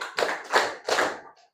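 Students in a seventh-grade classroom clap pattern number five: three quick bursts of many hands clapping, each a short ragged cluster, close and clear.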